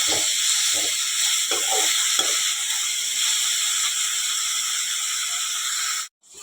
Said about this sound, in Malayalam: ഒന്ന് നന്നായിട്ട് വഴറ്റട്ടെ